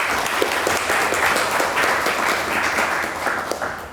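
Steady, dense audience applause welcoming a speaker to a university lecture on AI and history, many hands clapping at a constant volume for several seconds with no voices over it.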